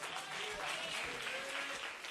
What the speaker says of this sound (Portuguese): Receba o servo de Deus com palmas para Jesus.